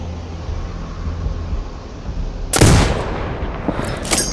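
A single sniper rifle shot in Sniper Ghost Warrior Contracts 2 cracks loudly after a quiet ambient stretch, followed by a booming decay and a faint second report.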